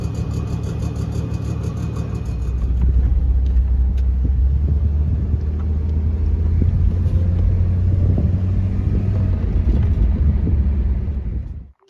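Old right-hand-drive diesel Land Cruiser driving on sand dunes, a continuous deep engine rumble with road and body noise from inside the vehicle, steady and loud with slight swells, no talking.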